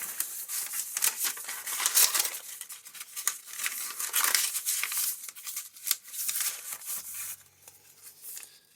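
Continuous crinkling and rustling of a stiff paper grocery-bag journal cover being handled up close, with brief scraping bursts, ending in a quieter stretch.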